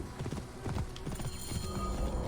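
Horse trotting in the video game Assassin's Creed Origins, a quick steady clip-clop of hooves close by, carrying on throughout with a low rumbling background and no talk.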